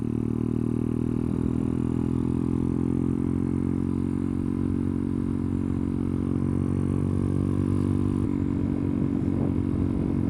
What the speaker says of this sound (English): Just cruising at one certain RPM is so so droney